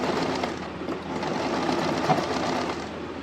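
A sewing machine stitches around a long frill skirt, running in one steady, loud, close whir with no speech.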